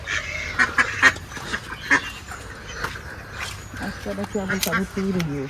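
Domestic ducks quack in repeated nasal bursts nearby, mixed with other animal calls, while people talk over them throughout.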